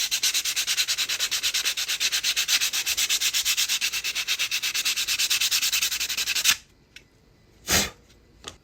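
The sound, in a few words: sanding a custom wood RC crawler body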